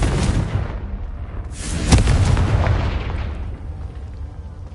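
A Confringo fire spell in Hogwarts Legacy on PS5 goes off as a loud booming blast with a sharp crack near the middle, then a long rumbling tail that fades away.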